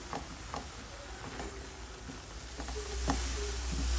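Apple filling for an apple pie cooking in a pan, a soft steady sizzle with faint clicks of stirring as the chopped apples give up their juice; no voices.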